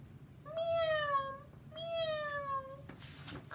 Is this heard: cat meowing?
yes